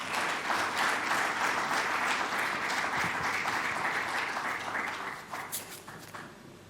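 A seated audience applauds at a stock exchange listing ceremony for MTN Rwandacell, a steady wash of clapping that holds for several seconds before thinning out toward the end.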